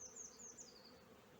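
Honey bees hum and buzz around an opened hive during an early-spring colony inspection, a faint steady drone with higher whining passes near the start, no voices.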